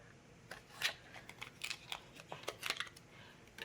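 Backing paper is peeled off a piece of card stock for a handmade Easter card, giving a few short, quiet crackling and ripping bursts close up.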